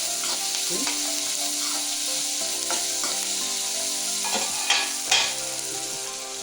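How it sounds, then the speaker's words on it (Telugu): Capsicum curry ingredients frying and being stirred in a pan, a steady close sizzle with repeated scraping stirs and a couple of louder clatters near the end, no talk. "ఇప్పుడైతే ఇంకా కొంచెం ఫ్రై కానియాలి"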